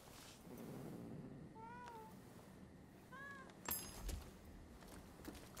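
Two short meows from a cat in the samurai action game Rise of the Ronin, the first near the two-second mark and the second a little after three seconds, sitting over a steady, low ambient bed.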